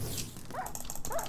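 A Minecraft wolf gives two short rising whines or yips during a Super Smash Mobs PVP match, fairly quiet and spaced apart over a background of game noise.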